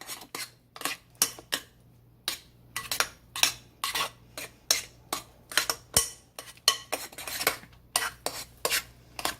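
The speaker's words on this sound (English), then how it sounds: "you're just going to mix all of that together" Sugar cookie bar ingredients for strawberry lemonade bars mixed by hand in a bowl, with repeated scraping, clinking strokes of a utensil in a steady rhythm, close and fairly loud, with no talking.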